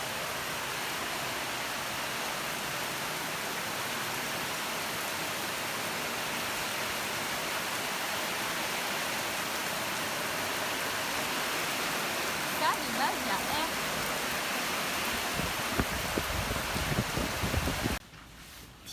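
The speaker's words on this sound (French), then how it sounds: "Mais ça va, il pleut moins." Heavy storm rain in Canggu, Bali, pours as a dense, loud, unbroken hiss for nearly the full length. Near the end it stops abruptly as the scene cuts away.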